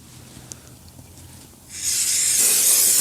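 Brake cleaner sprayed onto the back of a new brake rotor on a 2017 Chevy Cruze, a loud, close aerosol hiss starting partway through after quiet workshop background and continuing to the end.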